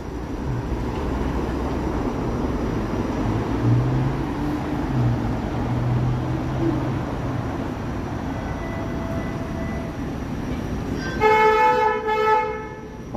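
A Toronto streetcar sounds its horn near the end, a short burst of harmonic honking over steady city street noise and passing traffic rumble.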